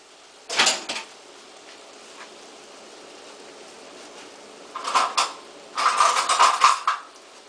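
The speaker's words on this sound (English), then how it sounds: "Place the split peas into the pot." Dried green split peas tumble into a cooking pot in a few short rattling pours, a brief one first and then two longer clattering bursts after a quiet pause.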